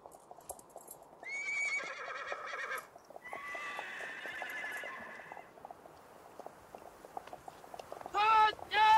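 Horses whinny loudly in several long neighs over a steady clatter of hooves, with a military cavalry unit on the move; another sharp neigh rings out close by at the end.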